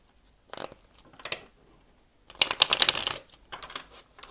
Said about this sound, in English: and we'll do one last shuffle.